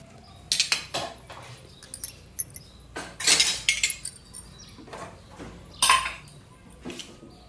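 Metal idli plates are greased with oil or ghee and clink together in short bright bursts, close and irregular, separated by brief quiet pauses and quieter rubbing sounds, with no voices.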